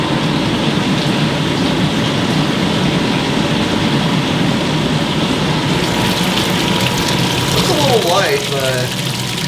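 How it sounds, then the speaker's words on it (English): A pump recirculates wort during home brewing of a stout, a steady whirring hum with rushing liquid that keeps going throughout, close and fairly loud, with some background talk. "I'm going to turn on our pump, and that's just going to recirculate the wort."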